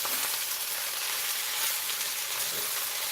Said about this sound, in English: let this fry for a while